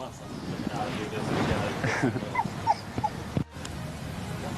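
A dog whimpers and gives a few short high yips, fairly close, against a busy background with some speech.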